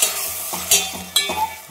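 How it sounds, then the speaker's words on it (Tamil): Tomatoes stirred and frying in a pan, with a steady sizzle broken by a few sharp scraping strokes of the spoon, close and fairly loud. "தக்காளி கொட்டிக்கலாம்."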